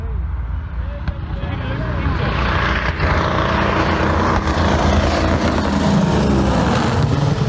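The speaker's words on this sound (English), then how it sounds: "This is what a radial engine failure looks like mid-flight" A propeller airplane with a radial engine fails in mid-flight during a training flight, giving a loud, steady engine roar and broad rushing noise throughout, with a voice speaking over it.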